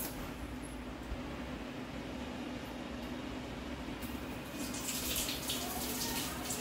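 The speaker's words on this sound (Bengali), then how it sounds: "বন্ধ করো, কল বন্ধ করে দাও।" Water runs steadily from a tap during handwashing, a continuous close splashing rush that grows slightly brighter and louder near the end, with no voices.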